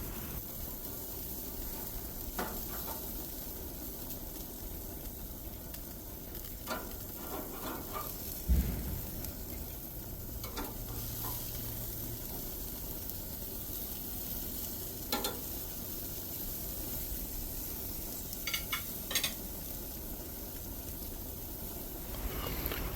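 Stuffed ham and Swiss mushroom burgers sear on an outdoor grill, giving a continuous soft sizzle and crackle with a few brief louder pops and scrapes.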